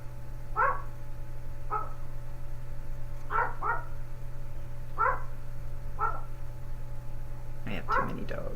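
Dogs bark in short, separate yaps spaced a second or so apart, faint and somewhat distant over a steady low hum, with a few whimpering yips mixed in.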